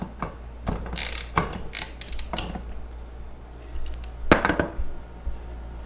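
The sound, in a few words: loosening blade nut on Ryobi BC30 brush cutter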